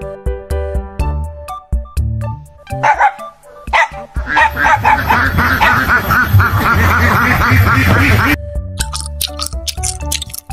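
Several small dogs yap and bark in quick bursts, with a dense stretch of overlapping puppy barks and whines in the middle, fairly close.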